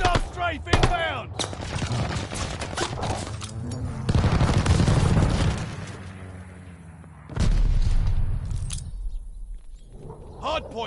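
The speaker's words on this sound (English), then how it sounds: "Hostile strafe inbound." An enemy strafing run in a video game sends rapid bursts of gunfire and heavy booms. The firing rolls on under near-continuous radio-style voice callouts from the game.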